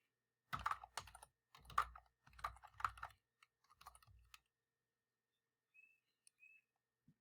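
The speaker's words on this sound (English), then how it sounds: "I want to type in some more information right here as we continue." Close, quiet keystrokes on a computer keyboard come in quick irregular bursts, then a pause and a few isolated taps, with a faint high chirp near the end.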